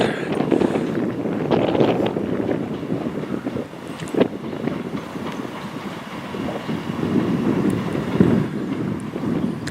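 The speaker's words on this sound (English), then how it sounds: "Right, here's our next train to Ribble Head." A train pulls into a station on the Settle and Carlisle line, bound for Ribblehead, giving a steady rumbling roar with rattling and wind buffeting the microphone throughout, fairly close and loud, with no talk.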